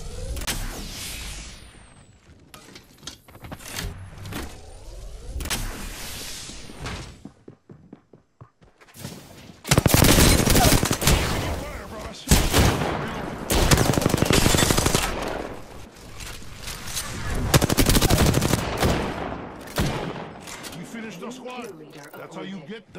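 Rapid automatic gunfire and scattered single shots from a shooter video game, loud bursts coming in waves with brief lulls, mixed with game effects and a player talking over the action.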